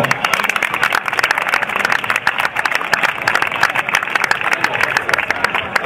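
A crowd applauds the secretary at the presentation of the Fondi futsal team: dense, steady clapping from many hands that fills the whole stretch loudly and evenly, with no clear talk over it.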